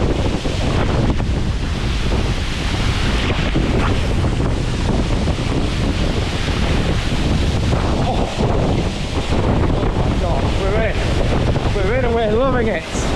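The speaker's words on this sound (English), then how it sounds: "Look at the scale of this waterfall." Scottish waterfall roaring in wind, a loud continuous broadband rush with heavy wind buffeting on the microphone, with brief voices near the end.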